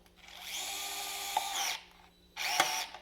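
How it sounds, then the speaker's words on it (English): A power drill drives screws into the posts of a belt holster, cinching them down in two bursts: a long whining run followed by a shorter one after a brief pause, close and fairly loud. "Put your screws in the posts and then cinch those down."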